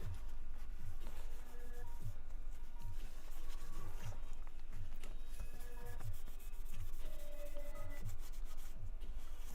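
A small laptop motherboard part is rubbed back and forth on a flat sharpening stone, producing a steady, quiet gritty scraping with a regular stroke rhythm over low background noise.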